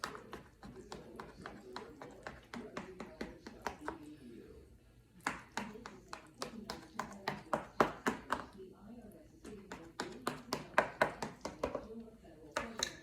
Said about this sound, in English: we have to put slices in this. Make it diamond shaped.